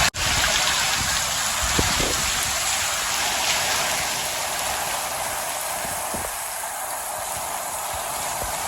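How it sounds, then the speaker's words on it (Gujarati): Heavy rain driven by wind pours steadily over farmland with a tractor nearby, a dense continuous hiss of downpour without letup, loud and close. "સારા 1 કલાક વરસાદ આવ્યો ને બધી જગ્યાએ પાણી કરી દીધું"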